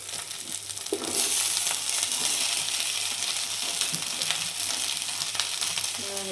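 Chana dal, garlic, onion and cabbage frying in a pan, giving a steady bright sizzle throughout with a few scattered clicks and stirring knocks, close and fairly loud.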